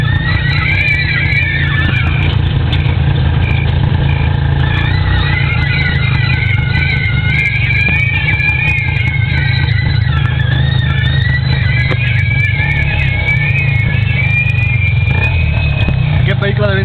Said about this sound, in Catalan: No sé si haureu pogut escoltar-ho ara mateix, però bueno, li fa falta una bona revisió amb aquest tuk-tuk